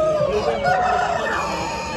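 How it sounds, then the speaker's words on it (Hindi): Fighting roosters at a crowded Delhi street market crow loudly and continuously, a strained, drawn-out call close by over busy market din. "ये फाइटर मुर्गे हैं"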